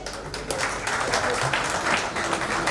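A seated audience at a hotel medical conference claps steadily for the chief guest, a dense, even patter of many hands that is fairly quiet overall, with speech mixed in.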